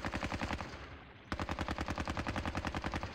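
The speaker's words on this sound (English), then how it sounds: "we still have the machine gun fire left." Rapid, evenly paced machine gun fire from the Squad Battles war game, with loud bursts of shots that stop briefly and then resume at the same steady rate.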